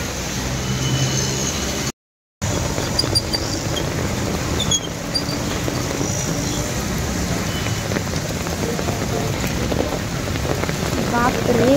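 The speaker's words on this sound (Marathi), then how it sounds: "बापरे, प्रमाणाच्या बाहेर पाऊस पडतोय." Heavy rain pours steadily outdoors around a bus, a dense loud hiss of drops on surfaces with a distant rumble of thunder, unbroken apart from one brief dropout.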